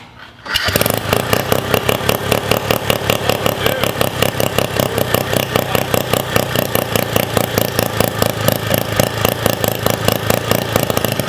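A turbocharged rotary engine on a minibike runs steadily during a pulse oil pump test, a loud, rapid, even buzzing putter that starts abruptly after a brief quiet moment and holds constant throughout.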